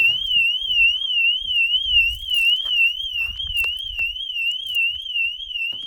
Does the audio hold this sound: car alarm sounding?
yes